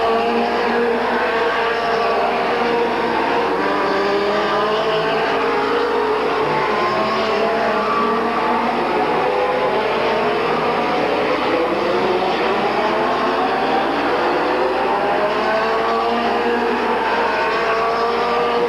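Race cars lapping Midvale Speedway in 1985, a continuous loud roar of several engines whose pitch rises and falls as cars sweep past, with occasional tire scrubbing in the mix.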